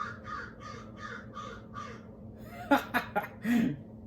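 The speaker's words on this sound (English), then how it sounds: "speaking of crows, right?" Several loud crow caws ring out close by, a sharp run of four or five calls in quick succession after a stretch of softer background sound.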